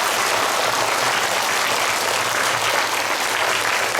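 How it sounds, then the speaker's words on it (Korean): Audience applause at a Catholic diocesan Holy Spirit convention in Incheon, a large crowd clapping steadily and loudly for a speaker, dense and continuous with no voices over it. "박수 한번 크게 쳐주세요."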